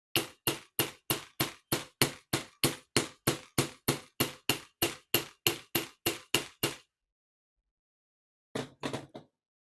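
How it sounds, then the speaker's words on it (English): A chasing hammer flattening a wire pin on a steel block: about twenty evenly spaced sharp metallic strikes in a steady rhythm, then a pause, then a quick cluster of three lighter taps, close and clear. "If you hammer it straight against the steel, it will flatten."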